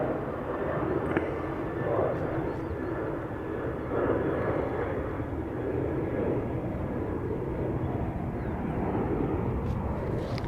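An ATR turboprop approaches Dublin Airport, a faint distant drone and rumble sitting under steady background noise, with soft talk briefly in the background.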